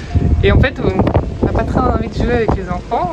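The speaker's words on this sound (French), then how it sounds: "Désolée pour le vent, hein, c'est un peu normal." Strong gusts from hurricane Elsa buffet the microphone with a continuous low roar, while someone talks over the blustery rumble throughout.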